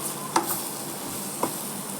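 Homemade chili powder and coriander powder sauté in a pan for fish curry, giving a soft, steady sizzle broken by two light taps of a stirring spoon.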